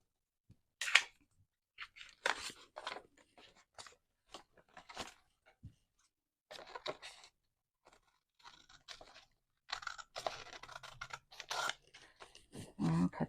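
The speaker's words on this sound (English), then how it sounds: "I'm just going to cut that off." Scissors cutting through paper while making envelope pockets: a series of crisp, crunchy snips in irregular bursts, close and clear with short pauses between cuts and faint handling noise.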